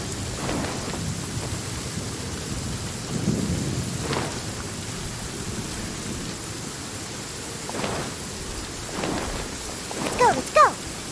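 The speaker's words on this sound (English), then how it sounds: "Rain! I hate rain." Steady rain hisses in the Genshin Impact video game while low thunder rumbles beneath it, with a few sharper crackles breaking through near the end.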